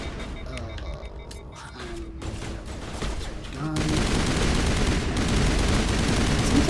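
Gunfire in Mass Effect: scattered shots and clatter, then a dense, continuous roar of rapid fire building and sustaining loudly toward the end.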